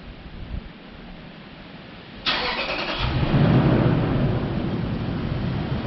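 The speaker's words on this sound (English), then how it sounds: "Engine started." A Toyota engine cranks and starts for an air injection test, a sharp start at about two seconds then a steady idle rumble, close and alone with no talk.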